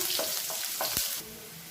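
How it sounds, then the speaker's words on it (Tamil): Finely chopped large onions frying in hot oil for an egg curry, giving a steady close sizzle and crackle with a few soft stirring scrapes. "இது எல்லாமே எண்ணெயில் பொரியணும் இப்போ எண்ணெயில் பொரிய ஆரம்பிக்கதும் கொஞ்சமாக ஒரு கைப்பிடி அளவுக்கு பெரிய வெங்காயம் பொடியாக நறுக்கினதை சேர்த்துக்கலாம்"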